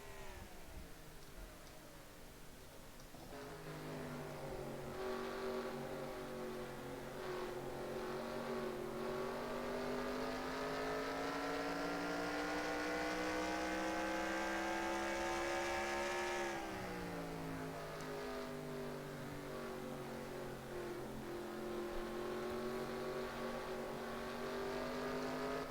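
Stock cars in a NASCAR Racing 2003 sim race at New Hampshire, a sustained high engine drone that climbs and dips in pitch as the pack laps, steady and fairly distant with no talking.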